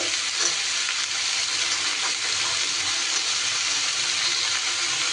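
Greens stalks going into a pan of vegetables frying for a vegetarian mixed-vegetable dish, with a loud, steady sizzle that stays even and close the whole time, no talk.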